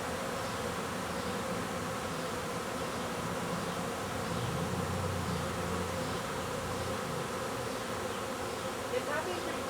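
A honey bee swarm drones around a backyard beehive in Vancouver, a dense, continuous buzzing of many insects at moderate volume with no talk over it.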